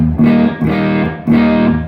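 An electric guitar with mild overdrive, without the EP boost engaged, strikes three chords in a quick sequence, each ringing briefly with a slight mid hump, loud and up close.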